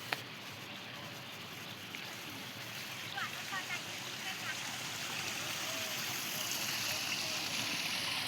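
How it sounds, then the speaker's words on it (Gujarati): Water from a borewell pours into a tobacco field with a steady, soft, rushing flow that stays even throughout, fairly faint and continuous. "બાકી પાણી બહુ આવે છે બોરમાંથી"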